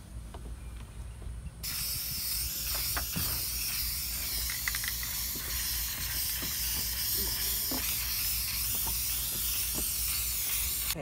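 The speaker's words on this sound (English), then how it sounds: "let me finish spraying this part" An aerosol spray can hisses out a protective coating onto a quail feeder, a sudden loud continuous hiss starting after a short quiet moment, broken by small clicks and taps as the can moves.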